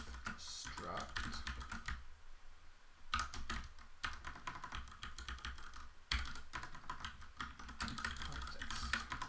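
Code being typed on a computer keyboard in quick bursts of crisp, close key clicks, pausing briefly before resuming, with a faint voice in the background.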